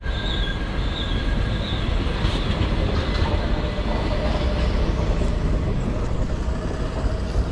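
A train at Varkala railway station gives a loud, steady rumble with wheel and rail noise and faint high squeals, continuous for the whole stretch with no voices.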